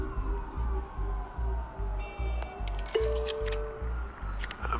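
Police car sirens in the Batman Telltale Series video game, wailing tones sweeping over a loud rhythmic pulsing low thump, with brief high electronic beeps, no talk.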